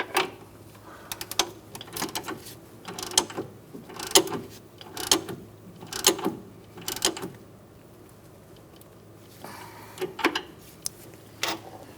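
A ratchet tightens a front sway bar link on a 2012-2019 Fiat 500, making close, clicking bursts in quick clusters with short pauses between strokes, then a few sparser clicks toward the end.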